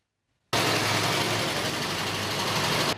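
An old GAZ-31 Volga engine converted to run on water starts up after a moment of silence, then runs with a steady, loud, close idling rumble.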